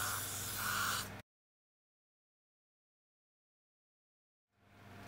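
Hairspray misted onto a wig near the skin to set the hold, a close, steady hiss lasting about a second before cutting off, followed by silence and another faint spray burst at the end.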